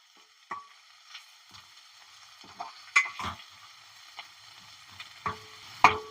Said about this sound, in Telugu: ఈ పసుపు కూడా పచ్చి పచ్చి ఉండకుండా మంచిగా కొంచెం నూనెలో గోలియాలి